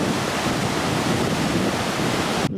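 Steady, loud wind roaring across Hellfire Beach near Lucky Bay, Australia, blending with a constant surf-like rush, then cutting off abruptly near the end.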